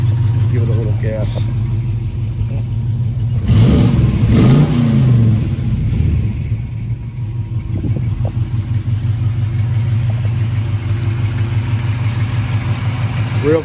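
A 1969 Chevrolet Camaro's V8 rumbles at a steady idle, then rises in a short rev burst before settling back to a loping idle, close and loud throughout.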